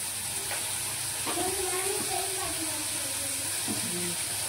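Spices and turmeric frying in ghee, a steady soft sizzle and hiss under a voice speaking Kannada, continuing evenly throughout.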